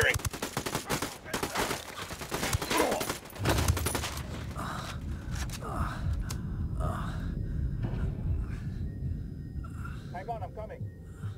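Gunfire in Ghost Recon Wildlands: dense bursts of rapid automatic shots crackle for the first few seconds, then give way to scattered fainter pops and rumbling game ambience.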